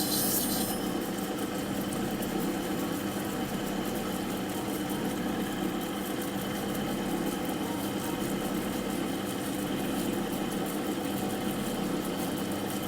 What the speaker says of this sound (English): Rough up the back of it a bit so that our wax will stick nicely.